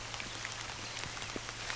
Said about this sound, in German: Kaum hat es angefangen zu regnen